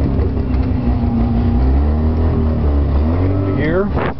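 Subaru 360 truck's small two-stroke, two-cylinder air-cooled engine idling steadily and buzzing close by, with a brief rising rev near the end as a person speaks over it.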